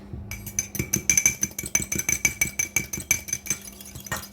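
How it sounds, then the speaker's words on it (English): Rapid clinking of a whisk against a bowl as egg yolk is whisked for an egg wash, quick rhythmic metallic taps, close up with no talking. "we're going to give that a quick whisk."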